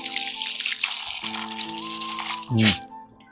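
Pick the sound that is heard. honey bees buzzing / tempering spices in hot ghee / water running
water running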